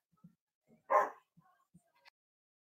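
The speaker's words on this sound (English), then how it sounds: "So I think that dog literally be barking 24/7" A single short dog bark, fairly close, surrounded by near silence and a few faint soft sounds.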